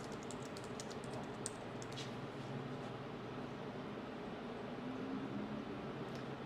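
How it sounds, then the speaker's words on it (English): Typing on a computer keyboard produces quiet, irregular clusters of clicks that fade after the first couple of seconds over faint steady background noise. "So I'm going to type in my business."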